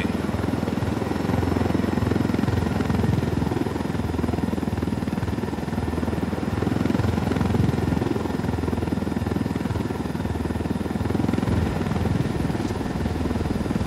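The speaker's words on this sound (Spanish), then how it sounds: "Ahí dejamos el helicóptero." Helicopter in the video game Ghost Recon Wildlands, its rotor thumping in a steady, loud, continuous drone that stays close and even throughout, with no talking.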